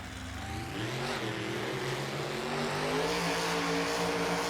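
Gravedigger and Wolverine monster trucks launch side by side from the starting line at a Try Outs Tour race in Paxton, Illinois, their engines roaring loudly and climbing steadily in pitch as they accelerate down the track, with no talk.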